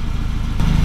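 A Volvo 240 wagon engine idles with an IPD performance exhaust, a low steady rumbling purr heard close up for under a second, with no talk over it.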